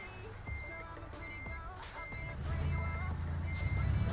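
A truck backs up in TruckersMP, the online trucking game, its reversing alarm beeping steadily and evenly over a low diesel engine rumble that grows louder toward the end.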